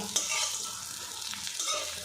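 Moong dal fritters fry in oil, a soft, steady sizzle close by, with a few light stirring scrapes over a couple of seconds and no talking.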